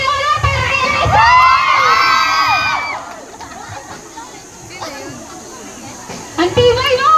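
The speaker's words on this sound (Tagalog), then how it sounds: "Isang sigaw at sigaw na para kay Eliza!" A crowd of children shouts and cheers a team yell together, loud and close, with scattered kids' voices and chatter continuing after the main cheer.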